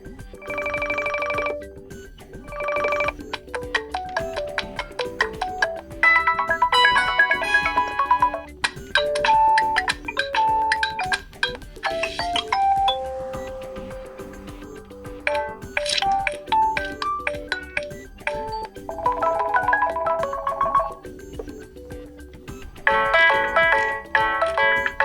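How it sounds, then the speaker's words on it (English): A run of short ringtone melodies plays from a Skagen Falster Gen 6 smartwatch, bright chiming and beeping patterns separated by brief pauses, clear and close with no talking. "here you have the list of ringtones we can select from. You can listen to them by tapping on one"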